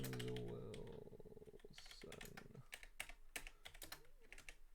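Rapid clatter of fingers typing on a computer keyboard, with dense irregular key clicks near the mic for several seconds, after a brief low hum at the start.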